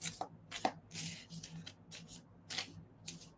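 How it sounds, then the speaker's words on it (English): A deck of tarot cards is shuffled by hand in repeated soft, papery bursts, about six riffling swishes over a few seconds, close and moderately quiet. "So I'm shuffling my cards and getting ready for a few people to pop in here."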